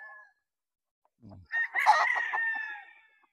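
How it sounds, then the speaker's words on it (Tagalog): A Kelso breed rooster crows once, close and clear, after a brief soft cluck, with quiet pauses around it. "Street breed na kelso."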